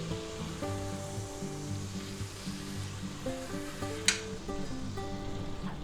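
A London broil steak seasoned with salt, pepper, garlic powder, onion powder and smoked paprika sizzles steadily in a pan after being flipped for a reverse sear, with a brief louder hiss midway and music playing underneath.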